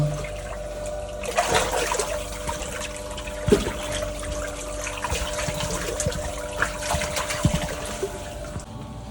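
Water pours and trickles steadily from a well pump drawing from a well being cleaned of clay, a continuous splashing flow with a low mechanical hum beneath and a few brief knocks.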